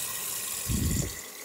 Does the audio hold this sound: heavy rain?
no